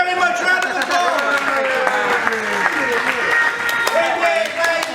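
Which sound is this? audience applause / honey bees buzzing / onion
audience applause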